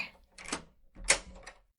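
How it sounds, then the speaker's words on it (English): A door is locked indoors with a few quiet clicks and clunks of the latch and bolt, close and soft against near silence. "Just let me lock the door over here"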